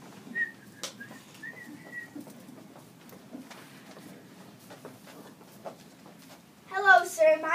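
A person whistles a short tune in brief snatches, faint at first, then a louder burst of whistled notes near the end over low background noise.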